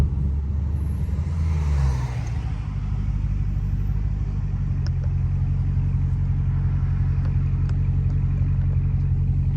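Dodge Hellcat engine accelerating on a city street, a deep loud rumble swelling at first and then settling into a steady low drone.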